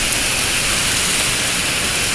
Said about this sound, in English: It is raining horrible.